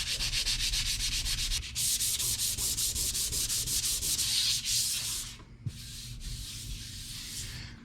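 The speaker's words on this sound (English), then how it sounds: "This is just a really quick hand sand." Steady rasping strokes of hand sanding across a brass resonator guitar body, close and loud, in a fast regular rhythm that pauses briefly twice before resuming.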